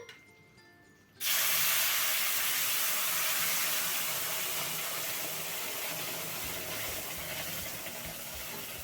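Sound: boiling water poured into roasted semolina

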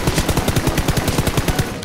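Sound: gunfire exchange in video game Peace Elite

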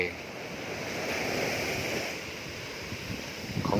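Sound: sea waves at Kae Kae beach, Pattani, Gulf of Thailand

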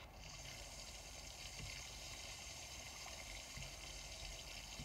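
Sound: rain shower in The Sims video game

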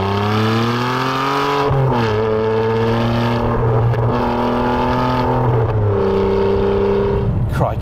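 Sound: Ferrari 612 Scaglietti HGTS being driven

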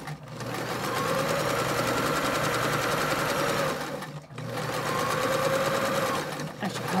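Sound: sewing machine stitching face mask fabric

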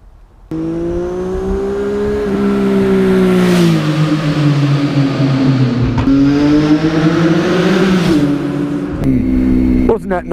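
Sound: Triumph Tiger 800 motorcycle engine with Yoshimura exhaust

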